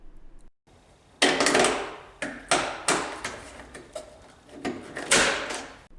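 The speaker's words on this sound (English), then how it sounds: "Use your new favorite trim tools to pop this back panel off" A plastic trim tool pries the back panel off a fourth-generation Toyota 4Runner, giving a series of sharp plastic pops and cracks spaced a second or so apart, close and fairly loud with no talking.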